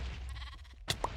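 Sheep bleating in the video game Minecraft Sheep Wars on Hypixel, two short bleats in quick succession near the end, sharp and close over a steady background of game noise.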